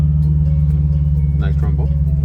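A Dodge Durango SRT Hellcat engine idles with a steady, deep, loud rumble throughout, heard from inside the cabin, while a voice briefly speaks over it.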